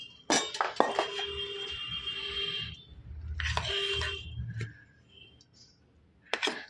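Dishes and cutlery clink and clatter while vegetable curry is served alongside parathas, with several sharp, close metallic and glassy knocks spread through the moment and soft handling noise between.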